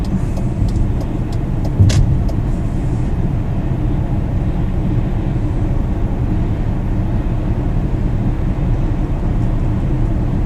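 A BMW E39 sedan converted to electric drive moves onto a highway slip road, giving a steady, loud rumble of road and wind noise with no engine note and no voices.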